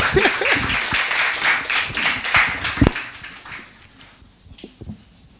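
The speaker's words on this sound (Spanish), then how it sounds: "una vez más un fuerte aplauso para ella y para doña Carmela" Audience applause at a book launch, a dense burst of many hands clapping that builds loudly for about three seconds, then thins into scattered claps and fades.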